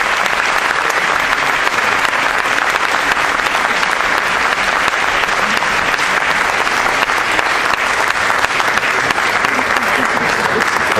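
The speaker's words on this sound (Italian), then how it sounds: "davvero meritatissimo questo applauso" Dense, sustained applause from a theatre audience at a live concert in the Teatro Comunale di Lonigo, loud and steady throughout with a crowd roar beneath, no pauses.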